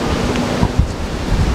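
The flooded Seti river in Pokhara rushes past in a dense, continuous roar of churning water, loud and close, with wind buffeting the microphone.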